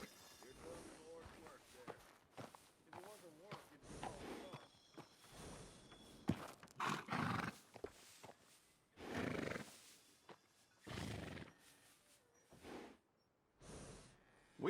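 Horse neighing and snorting in the Red Dead western video game, several short whinny bursts near and moderately loud, with soft hoof movement and someone talking between them.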